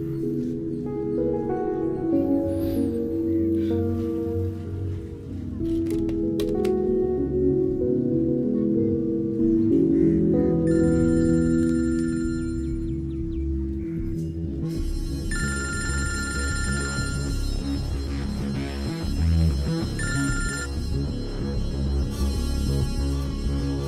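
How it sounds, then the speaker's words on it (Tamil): A mobile phone rings in a Tamil film scene from Neram, with a repeating ringtone that grows clearer in the second half over a dense, busy soundtrack. "ஃபோன் அடிச்சு எடுக்க மாட்டேன்"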